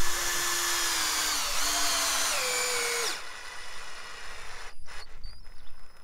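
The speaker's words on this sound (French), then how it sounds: "on a sur la perceuse, la visseuse des visseuses, perceuse, on a un embout spécial" A cordless drill-driver with a special bit drives a screw into a fence post while fitting an insulator outdoors, its motor whining steadily and shifting pitch for about three seconds before stopping, leaving quiet outdoor background.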